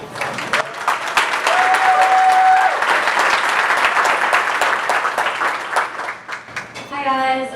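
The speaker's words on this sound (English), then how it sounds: "I'd like you to give a warm round of applause to Holly" A warm round of audience applause at a speech event, loud and continuous with individual claps audible, a brief whistle-like tone early on, and a voice emerging as the clapping fades.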